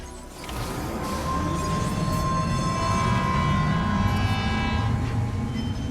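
Steady rumbling rush of a monorail train in the video game Death Stranding 2, a continuous loud rolling drone with a sustained tonal whine riding over it, no speech.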